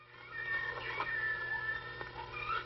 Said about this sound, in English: That's just a little baby lion.